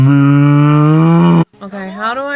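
A cow in the video game Divinity Original Sin gives a long, loud, drawn-out moo, then a shorter second lowing call after a brief break.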